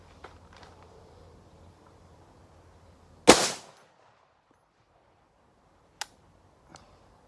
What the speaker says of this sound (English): now we're going to go ahead and see what we get with this Hornady. Hopefully we get 5 shots without stopping.